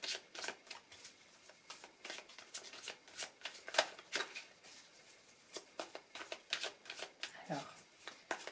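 Tarot cards being shuffled for a card reading, a steady run of soft riffling bursts and flicks repeating throughout, close and fairly quiet, with faint low murmuring now and then.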